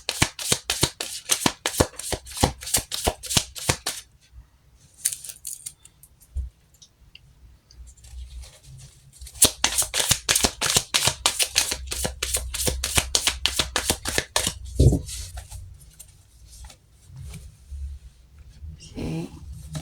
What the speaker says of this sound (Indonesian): Kita shuffle kartunya